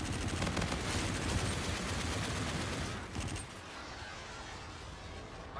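An aircraft's gun run in a video game: a dense, loud burst of rapid strafing fire roars for about three seconds, then drops to a lower rumbling tail of impacts and engine noise.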